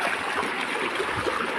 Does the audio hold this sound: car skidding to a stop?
no